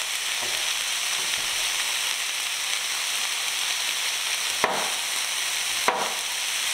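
Steady sizzling of peppers frying in a pan, a dense crackling hiss with a couple of sharp clinks from utensils.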